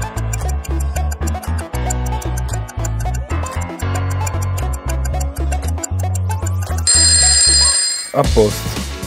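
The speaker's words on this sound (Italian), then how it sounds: "A posto, ha suonato la sveglia, procedura completata." An electronic phone alarm plays a bright, repeating melodic pattern, loud and close, ending with a brief higher chime.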